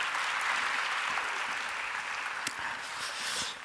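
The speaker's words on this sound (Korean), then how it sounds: "우리 박수로 하나님께 영광 돌립니다" Congregation applause fills a Korean church's Friday evening service, a steady broad wash of clapping that holds for several seconds before easing slightly at the end.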